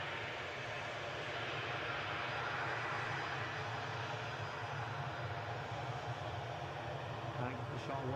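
An airplane at Newcastle airport roars overhead while departing or going around, a loud sustained engine rumble and whine that holds steady, with people talking faintly underneath.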